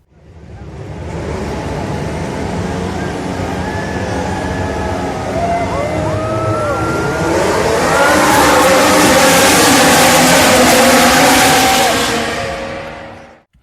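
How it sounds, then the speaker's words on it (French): Formula 1 cars roar away at the start of a race, many high engine notes rising and overlapping into a loud, building scream that peaks near the end. "démarrez vos moteurs, c'est un départ!"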